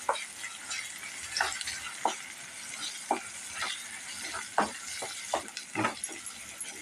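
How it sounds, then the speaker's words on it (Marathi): Ginger-garlic paste sautéing in oil for a brinjal and potato curry gives a soft, steady sizzle. Repeated spatula scrapes and taps recur about once a second, close and fairly quiet. "हे आलं लसूण पेस्ट टाकून घेऊया हे चांगलं आपण परतून घेऊया चांगलं तेल सुटेपर्यंत"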